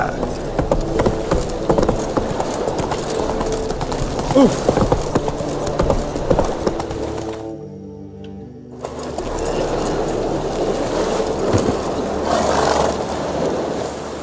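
Hooves of Roach, Geralt's horse in The Witcher 3, clip-clopping in a steady trotting rhythm under game music and ambience, broken by a brief silent gap midway, with a voice speaking over parts of it.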